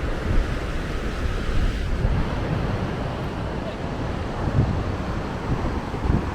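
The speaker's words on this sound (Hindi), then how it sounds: "ये भागीरथी रिवर है।" Broadband rushing water of the Bhagirathi river flowing below the Harsil mountains, a steady, dense roar with gusts of wind across the microphone throughout.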